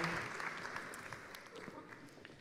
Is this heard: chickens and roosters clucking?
no